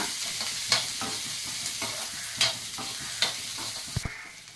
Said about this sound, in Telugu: ఈ ఆయిల్లోనే ఉల్లిపాయ ముక్కలు అల్లం ముక్కలు వెల్లుల్లి వేసుకుందాం బాగా